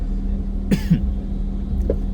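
A man with a cough from getting caught in rain coughs twice in quick succession, short and dry, close by, against a steady engine-like hum, with a faint clearing of the throat moments later, during a Navratri Durga Mata Daud in Pirangut.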